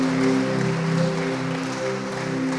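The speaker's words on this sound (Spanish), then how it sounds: "Dale un fuerte aplauso al Señor." A church congregation claps loudly in praise during a Sunday service, the steady applause lasting a few seconds over sustained tones of background music.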